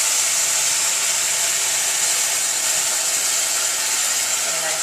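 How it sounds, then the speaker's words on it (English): Vegetable or chicken broth hitting a hot pan for a rice almond pilaf sizzles in a steady, loud, unbroken hiss that runs throughout without pause or talk. "Get a nice little sizzle going there."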